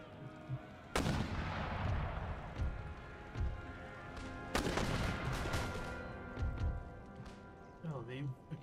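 Musket volleys in Empire: Total War, two heavy crashing volleys that roll and echo, with scattered distant shots and rumble in between and someone talking over the battle.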